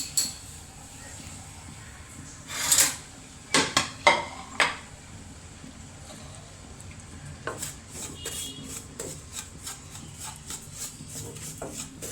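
A spoon clinks and scrapes against a pan while semolina (rava) is dry-roasted with no oil or ghee. Scattered, fairly quiet clatters come in small clusters, with a voice nearby.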